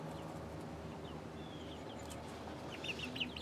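Hens and young chicks cluck softly around a farmyard coop, faint and scattered, with a few brief higher chirps near the end over quiet background noise.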